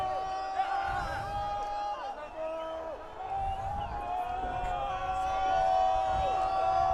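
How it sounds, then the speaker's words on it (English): Vocal crowd on the terraces at a school First XV rugby match between Rotorua Boys' High and Tauranga Boys' College, a steady wash of cheering, whoops and shouts with sustained chanted tones running throughout, loud and continuous. "Very vocal crowd here on Ngā Paia Kahukura, our terraces here."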